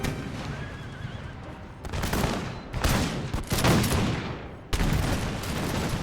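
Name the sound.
infantry firing muskets in an American Revolution video game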